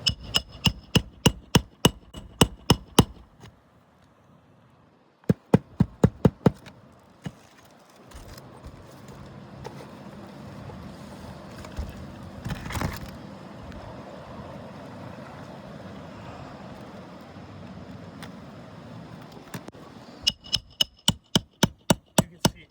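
Rapid hammer blows on the shingles of a damaged roof ring out in quick bursts at the start, middle and end, with quieter outdoor noise and a breezy hush between the strikes.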